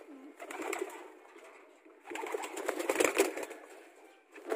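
Pigeons cooing nearby, soft repeated throaty coos rising and falling in two clear bouts with a brief lull between, no talking.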